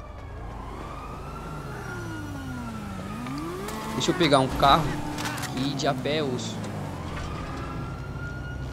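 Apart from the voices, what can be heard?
police siren in GTA V video game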